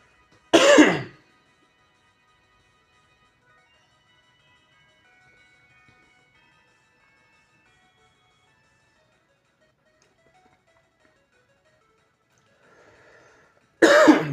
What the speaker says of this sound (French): Désolé, je tousse un peu, je suis un peu malade en ce moment.